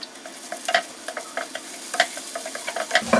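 Ginger and garlic stir-fried in hot oil with whole garam masala (cumin, star anise, bay leaves, black pepper, cloves, cinnamon) for chicken biryani, a close steady sizzle punctuated by sharp scraping spoon strokes, no voices.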